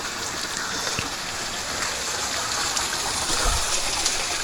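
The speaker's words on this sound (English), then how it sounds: "Some hard rain a fall right now." Hard, dense rain pours steadily in Jamaica and hisses loudly on surfaces all around. The noise is broad and continuous, with no talking.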